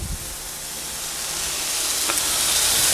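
Pear juice hits a hot pan of pears and white wine, setting off a loud, broad sizzling hiss that swells and holds steady.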